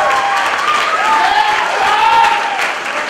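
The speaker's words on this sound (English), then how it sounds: "Round of applause for Shub." Wedding guests applaud the bride in a sustained round of clapping and cheering, a dense, even wash of many hands from a crowd throughout, with voices mixed in.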